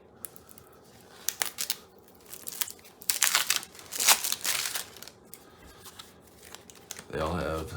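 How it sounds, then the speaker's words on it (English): Plastic wrapping crinkles and tears as a new deck of New York playing cards is unsealed, bursts of crackling and rustling close by, followed by a brief heavier shuffle near the end, with talk before and around it. "Just to crack open one set of cards here."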